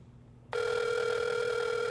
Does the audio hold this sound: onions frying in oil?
no